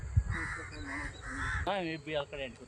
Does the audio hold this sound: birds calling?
yes